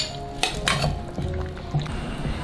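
Carrot pieces drop into a simmering pot of squid soup with two quick splashy knocks, followed by a low, steady bubbling.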